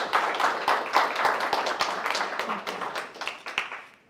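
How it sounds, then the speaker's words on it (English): Seminar audience applauding smart city project presentations: a modest room of scattered, fairly close hand claps lasting about four seconds before tapering off. "A round of applause for the ladies and their smart city projects."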